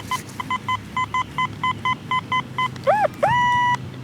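A metal detector sounds a string of short, evenly spaced beeps, then warbling tones that settle into a steady, sustained high-pitched signal.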